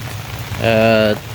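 Steady rain falls near the sea in the early evening, a constant soft hiss throughout, with a brief tonal hum rising partway through.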